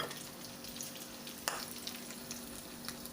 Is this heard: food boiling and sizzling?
yes